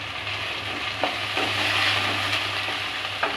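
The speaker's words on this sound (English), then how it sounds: "Saute for just a few seconds." Garlic cloves and green chilies fry in hot oil for dal fry, a dense, loud hiss of sizzling with a couple of light spoon taps, steady and close.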